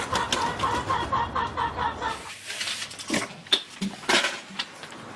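Chickens and cockerels clucking in a garden, with a rapid run of repeated clucks at first, then scattered louder squawks and calls, fairly close and continuous.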